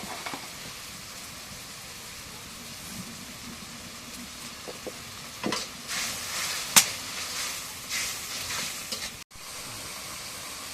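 Cumin and garlic paste frying in a pan gives a soft, continuous sizzling hiss, joined midway by a few louder spatula clacks and scraping bursts before settling back to a gentle sizzle.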